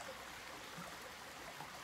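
Noons Creek flowing beside a forest trail, heard as a faint, steady wash of running water with no pauses and no voices.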